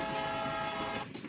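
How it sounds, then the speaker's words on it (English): Train horn blaring in several steady harmonic tones for about a second before cutting off, leaving rolling rail rumble beneath, fairly faint and distant. "The train horn blared its final warning."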